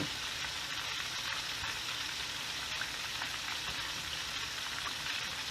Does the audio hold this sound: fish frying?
yes